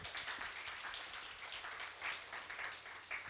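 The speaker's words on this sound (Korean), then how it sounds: "박수 한번 치셔야 될 것 같아요" An audience applauds in a lecture hall during a talk on Admiral Yi Sun-sin's leadership: a steady, dense patter of many hands clapping, moderately faint and even throughout, with no speech over it.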